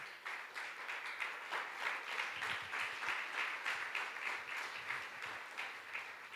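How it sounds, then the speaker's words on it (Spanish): A church congregation applauding in worship, steady dense clapping from many hands filling the room continuously at a moderate distance, with no voices standing out. "dale un aplauso al Señor"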